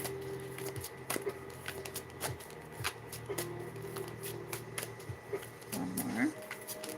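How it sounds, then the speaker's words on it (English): Tarot cards shuffled in repeated soft riffling bursts, close and quiet, with a voice talking at moments. "I saw transformation while I was shuffling."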